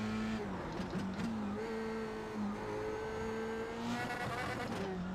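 An F3 race car laps Interlagos in the iRacing sim, its engine whining steadily and shifting pitch through gear changes and acceleration, with a brief tire squeal, heard alone without voices.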